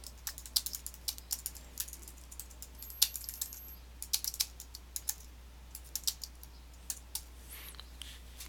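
Computer keyboard keys tapped in quick, irregular clicks with small pauses, close and fairly quiet, with no voices.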